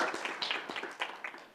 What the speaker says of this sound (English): Yeah, we can clap for her right now.